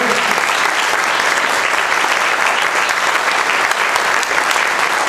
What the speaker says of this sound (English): let's have one more round of applause for our inductees this year.